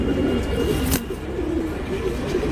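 Cheeni breed pigeons coo softly in a loft, giving low repeated throaty calls over a steady background hum with one brief sharp knock partway through.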